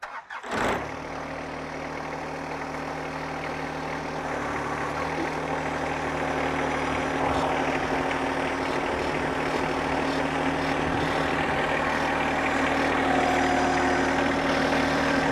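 A John Deere 1025R compact tractor engine starts up and then idles steadily, a close, constant low rumble with no talk over it.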